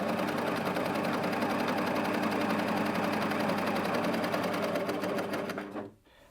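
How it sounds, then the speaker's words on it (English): A Husqvarna Viking Amber Air S 600 coverlock sewing a triple cover stitch on fabric, a loud, fast, steady mechanical whir of needles running continuously for about six seconds before stopping abruptly. "Now I'm going to go ahead and sew that lovely triple cover stitch."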